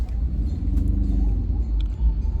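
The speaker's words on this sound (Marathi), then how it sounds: "मस्त भयानक ट्रॅफिक लागलेलं आहे सध्या" Heavy, congested road traffic in Pandharpur, Maharashtra, in the evening: a steady low engine rumble of idling and crawling vehicles, close and continuous, with faint horn-like tones above it.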